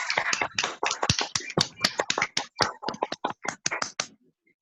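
An audience welcomes a guest speaker with loud, fast clapping in dense, irregular bursts that fade out abruptly at the end.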